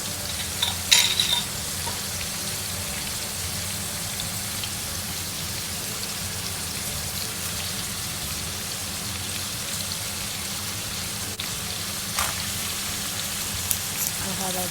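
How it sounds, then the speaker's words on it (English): Roughly chopped onion frying in a pan for a creamy chicken curry, giving a steady, dense sizzle that lasts throughout, with occasional utensil clicks and stirring noises close by and a few faint voices underneath. "I have just chopped my onion roughly. I'm going to mix up my onion. Now we just want it to just get a little bit fried up."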